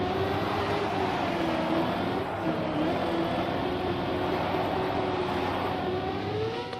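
Steady engine drone from a racing video game, a continuous tonal hum holding level throughout with no voices over it.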